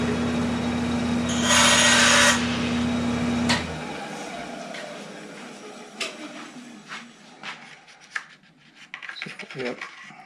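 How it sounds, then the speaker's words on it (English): A bandsaw cuts through a strip of kerfed lining for a guitar: a loud, steady whine and buzz for a few seconds, then it stops, followed by quieter scraping and handling sounds. "I'll cut this on the bandsaw about halfway between the two."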